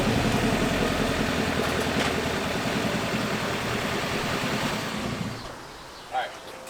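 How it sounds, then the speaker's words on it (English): A 2020 GMC Sierra Denali pickup with a Duramax diesel engine idles with a steady low rumble, close by, then the engine drops away near the end, leaving a brief thump. "I had to move the truck real quick to let somebody by"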